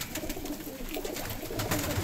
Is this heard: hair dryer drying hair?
no